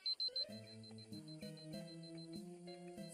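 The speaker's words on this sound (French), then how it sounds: "quand je me rapproche, le bip sonne de plus en plus fort" A steady electronic beep from a rescue beacon on a mountain repeats in a regular pulsing pattern, fairly close and alone, with no voices.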